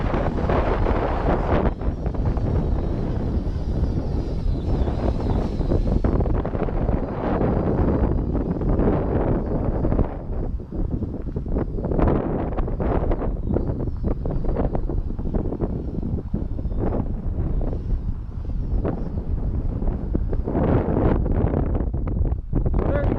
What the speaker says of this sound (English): I know it's a little windy out here today.